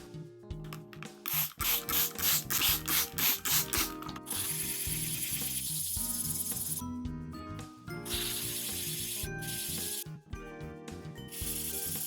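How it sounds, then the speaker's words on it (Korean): Rhythmic scratchy rubbing strokes, close and fairly loud, then a longer continuous abrasive scraping, as sandpaper is worked back and forth on the back of a resin shell phone grip. "일단 뒷면들 사포질 해줄게요."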